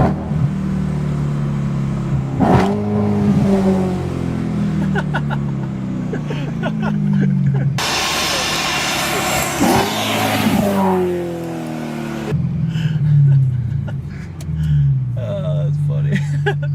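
Supercharged BMW M3 engine revved high toward 7,000 RPM and released, rising and falling engine roars recurring through the stretch, with voices talking in the background.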